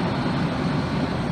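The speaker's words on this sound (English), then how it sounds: "They got helicopters all over," Police helicopters circling overhead at an urban scene where officers were shot, sweeping the area with floodlights; a steady, loud low rotor and engine drone fills the whole moment without talk.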